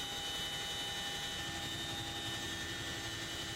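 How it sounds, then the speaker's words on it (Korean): Loud aircraft engine droning steadily overhead at about 600 m altitude during a military parachute drop, a continuous hum with tonal whine and no voices. "시끄러운 엔진음이 600m 상공에 머물자"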